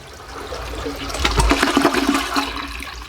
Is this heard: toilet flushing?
yes